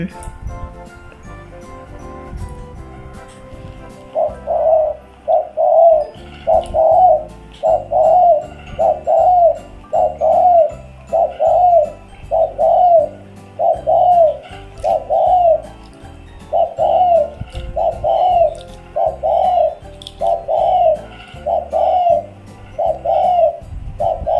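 Spotted doves cooing close by, a regular series of loud, rounded coo phrases repeated steadily one after another over a quiet background.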